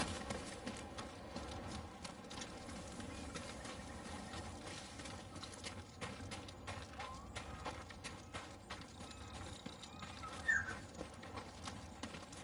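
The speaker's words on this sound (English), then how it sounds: "Good horse, Kage" Steady clip-clop of horse hooves at a trot in Ghost of Tsushima over a constant ambient bed, with a brief louder accent near the end.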